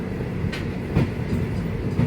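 A Vande Bharat express train runs along the track, a steady loud rumble with periodic clickety-clack of wheels over rail joints and brief brighter rattles.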